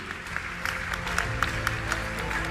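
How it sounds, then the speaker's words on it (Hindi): Applause from an audience at a Jain religious gathering in Indore, a steady moderate patter of many hands with a few louder claps poking through, continuous across the moment. "तालियां बजाइए,"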